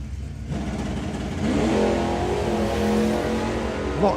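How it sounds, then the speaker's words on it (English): Drag race cars launch down the strip at a nostalgia drag racing meet, the engines rising in a loud accelerating roar that holds steady as they pull away. "Not as high up on the wheelie this time then for Gary."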